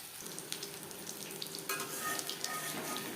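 Pieces of katla fish fry in hot oil in a pan, a steady close sizzle that grows louder and busier partway through, with crackling spits and no voices.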